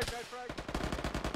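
Rapid automatic gunfire in the military video game Arma 3, a fast, evenly spaced burst of sharp shots, close and loud, after a short tonal sound at the start.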